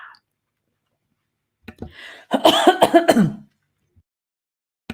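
A single person clears their throat and coughs up close, a short harsh burst framed by quiet, with a few faint clicks.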